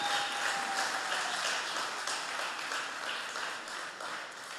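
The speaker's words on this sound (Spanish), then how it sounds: "Dale ese aplauso al Rey de Reyes." A church congregation applauds during an evening worship service, steady, full clapping at a moderate level that fades slightly toward the end, with no voices on top.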